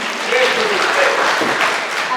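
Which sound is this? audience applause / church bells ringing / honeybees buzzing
audience applause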